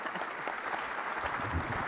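A summit audience in Esbjerg breaks into applause, a dense, even wash of clapping, fairly faint and from a distance.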